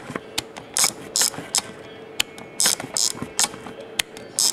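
The film advance on a Konishiroku Pearl III camera is wound, giving up close a series of small ratcheting clicks and short bursts of mechanical whirring in an uneven rhythm.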